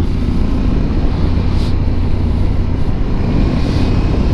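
An Aprilia Tuareg 660 motorcycle underway on the road, its engine a constant loud drone blended with heavy rushing wind, unbroken for the whole stretch with no voices.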